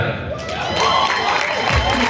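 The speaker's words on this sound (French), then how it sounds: "Et on applaudit très fort pour lui" An audience applauds the winning model at a fashion show, with crowd clapping and some cheering swelling underneath and around a presenter's voice speaking over the noise.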